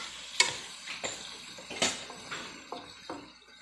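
Liver stir-fry sizzling in a pan while being stirred, a soft continuous sizzle broken by several distinct scraping stir strokes, fairly quiet and close, with no talking.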